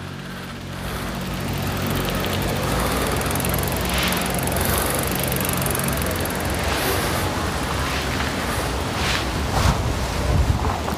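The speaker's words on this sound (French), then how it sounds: "j'espère qu'on n'entend pas trop le vent non plus." Wind blows outdoors straight into the microphone, a loud continuous rumbling buffet with gusty swells lasting several seconds and no voices.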